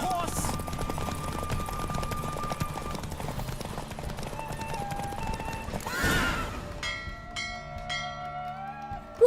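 In The Witcher 3, a racing horse gallops with rapid hoofbeats and a whinny. A brief burst of noise follows, and ringing bell-like tones fill the final seconds.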